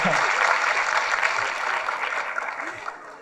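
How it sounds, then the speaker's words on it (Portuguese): Audience applause for Ana at a social impact ambassadors program session in a conference hall, a steady wash of clapping that holds throughout with some voices mixed in and fades slightly toward the end. "Palmas para a Ana, por favor."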